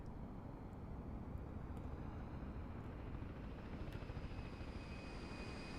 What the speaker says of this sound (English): I think we got the T-38 coming on in as well. Or, no, definitely doing a flyby?